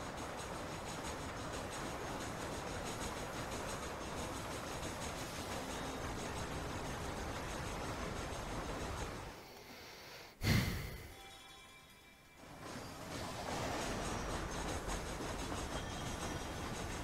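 A train rumbles along the tracks in the video game Red Dead Redemption, a steady broadband roar that dips briefly, gives a sharp hiss-like burst, then resumes its continuous rolling noise.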